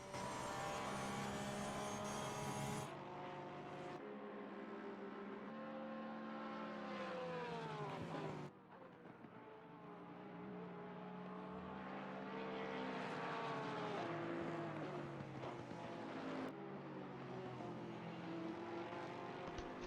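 Porsche and Lexus race cars from a racing video game cornering at the Nürburgring, loud continuous engine whine rising and falling through gear shifts and turns, with a sharp cut midway, no voices.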